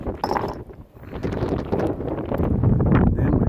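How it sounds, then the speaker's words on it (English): Wind gusting outdoors, a steady rough rumble buffeting the microphone, rising in strength toward the end with no talking. "Then we've got the old wind"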